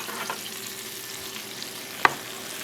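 Steak and cheese sizzling in a Brava oven, a faint steady hiss of frying with one sharp crackle partway through, close and alone.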